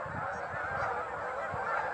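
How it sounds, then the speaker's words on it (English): Ducks and geese on a pond at night keep up a dense, continuous chorus of honking and quacking, a steady mass of overlapping calls with a few nearer honks standing out. "The ducks are at it."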